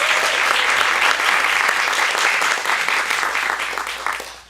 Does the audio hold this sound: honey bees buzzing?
no